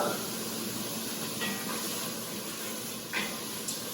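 Food sauteing in a cast iron pan gives off a steady, close hiss with light crackles and pops throughout.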